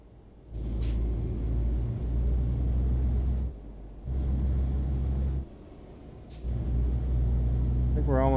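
Heavy truck engine drone in Euro Truck Simulator, a steady low rumble that cuts in and out in long stretches, with sharp air brake hisses near the start and again later, all loud and close.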